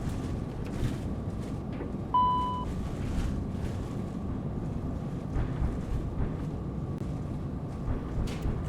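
Thrust reversers deploy on a Challenger business jet after landing at Aspen, a loud steady roar of engine and rushing air heard from the cockpit, with a brief electronic tone near the start.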